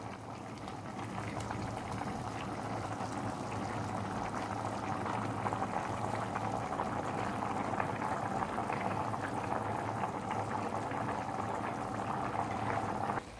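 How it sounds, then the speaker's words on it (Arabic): Water with pasta boiling steadily in a pot on a home stove, a continuous close bubbling roil that holds at an even level throughout with no voices. "نسيبها طبعا تغلي، طبعا المكرونة هتستوي وهتبقى جاهزة للأكل"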